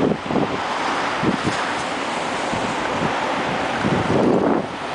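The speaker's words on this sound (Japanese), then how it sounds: "風は、今北東が吹いてます。" Northeast wind gusting across a surf beach on the Taito coast, steady roaring wind noise buffeting the microphone with waves washing behind it, loud and continuous throughout with no talk.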